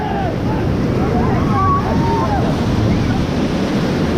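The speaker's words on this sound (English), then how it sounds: "White water." White water rapids on a river during a rafting trip in Dandeli, a loud continuous roar and rush of churning water with wind buffeting the microphone throughout.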